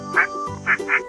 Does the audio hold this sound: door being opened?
no